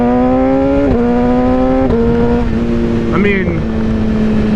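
A BMW S1000RR sport motorcycle with a BrenTune ECU flash revs up in steady stepped pulls toward 8,000 RPM, the engine note loud and close with a rising harmonic whine, while someone talks briefly over it.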